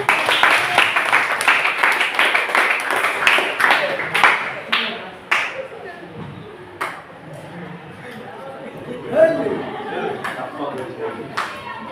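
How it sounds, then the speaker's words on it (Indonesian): A junior high school class claps together in a quick rhythmic beat during a group presentation. The clapping thins into a few scattered claps amid low classroom chatter and voices. "Yang keras ya, tepuk tangan dulu."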